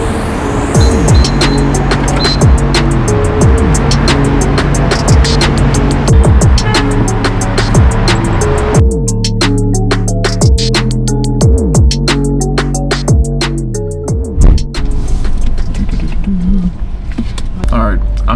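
Car interior while driving home, with a steady engine drone and shifting tones beneath continuous close talking and music-like tonal bursts throughout.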